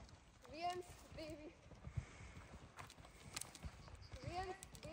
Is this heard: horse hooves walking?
yes